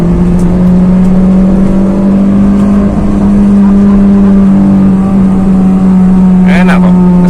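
A Honda Jazz with a manual gearbox pulls out to overtake, its engine holding a loud, steady drone from inside the cabin with road noise underneath and some talking.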